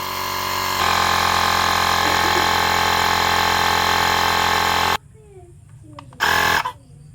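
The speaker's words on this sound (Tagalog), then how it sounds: "gamitan ulit natin ito, electronic pump 30" An electronic pump runs loudly and steadily while inflating a tubeless tire, a constant droning hum that cuts off abruptly, followed by quieter handling noises and a brief loud burst.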